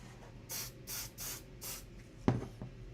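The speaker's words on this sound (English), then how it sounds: "More spray adhesive from Hub Hobby, not sponsored." Hub Hobby Accelerator Insta Set spray adhesive from an aerosol can in four short, even bursts, each a broad hiss near the mic. A sharp knock follows near the end.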